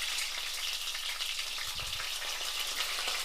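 Bitter gourd frying in a pan gives a steady, fairly quiet crackling sizzle throughout, with a brief low stir or bump partway through and no talking.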